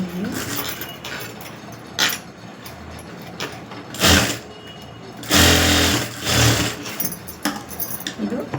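A domestic sewing machine stitches the back neck of a blouse in short intermittent bursts, close and moderately loud, with quiet handling gaps between runs.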